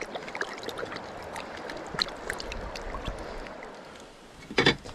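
Creek water splashes and trickles as a cleaned trout is rinsed by hand outdoors, soft gurgles over a flowing stream, ending in a brief louder splash.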